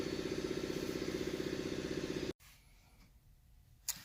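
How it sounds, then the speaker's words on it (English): A compressor runs with a steady, rhythmic mechanical pulsing, close and fairly loud, then shuts off abruptly partway through, leaving quiet room tone and a faint click afterward. "Alright, so the compressor finally went off"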